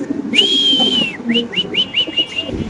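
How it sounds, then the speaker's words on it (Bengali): Bokhara house pigeons calling up close: a sustained whistle-like note followed by a run of short rising chirps, over a faint background murmur. "মাশাআল্লাহ, এত সুন্দর কবুতর ভাই"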